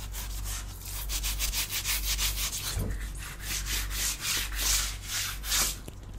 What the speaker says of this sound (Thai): เดี๋ยวผมขออนุญาตล้างห้องน้ำสักพักหนึ่งก่อนนะครับ